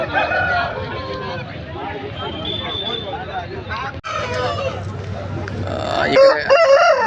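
A rooster crows over a busy flock of clucking country chickens at a poultry market, with a murmur of voices and general commotion around them.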